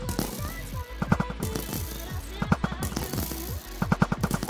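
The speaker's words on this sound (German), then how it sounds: "Die schießen alle gleichzeitig." Rapid video game gunfire from many enemies shooting at once crackles in repeated dense bursts, loud and close, with brief gaps between volleys and a voice faintly beneath.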